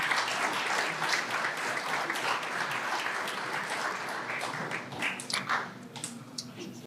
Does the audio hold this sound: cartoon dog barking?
no